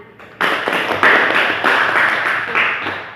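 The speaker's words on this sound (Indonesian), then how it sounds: "sekali lagi untuk kelompok 1 kita berikan tepuk tangan" A classroom of students gives group 1 a round of applause: dense, loud, close clapping that starts abruptly and continues steadily for a few seconds.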